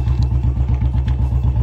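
A nickel-finished Bullet motorcycle sits on a railway line, its engine thumping close and loud in a fast, even single-cylinder beat at idle.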